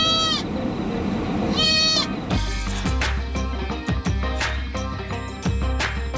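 A pet goat bleats twice in drawn-out, wavering cries up close, followed by loud music with a thumping beat that takes over the rest of the stretch.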